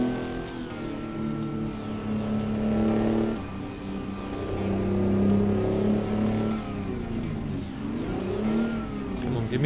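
A 12V71T diesel truck engine in American Truck Simulator, a deep droning growl that rises and falls as the revs climb and drop through gear changes, loud and close throughout.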